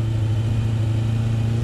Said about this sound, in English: clutch in, first gear, a little bit of revs, handbrake off